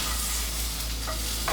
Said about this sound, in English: stir the fajitas till I know they're done